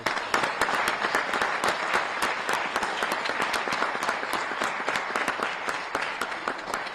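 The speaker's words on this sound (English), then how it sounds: "Let's give everyone a round of applause." Press conference audience applause at a gathering in Chicago, a sustained, even burst of many hands clapping together, moderately loud with crisp individual claps standing out across the whole stretch.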